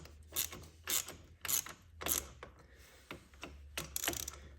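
A ratchet fitted with a 9/16 socket tightens bolts on Honda Grom rearsets, sounding as close, crisp bursts of clicking strokes repeated at a steady rhythm, alone.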